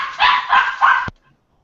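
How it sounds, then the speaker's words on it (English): Several dogs bark three times in quick succession, loud and close, ending abruptly with silence after. "He had a draft today, and then his dogs interrupted it"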